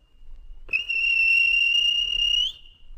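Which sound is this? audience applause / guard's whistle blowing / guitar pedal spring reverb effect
guard's whistle blowing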